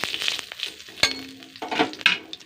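A whole chilli and a small pinch of panch phoron crackle and sizzle in hot oil, with spoon clinks against the pan at intervals, close and steady, no voices.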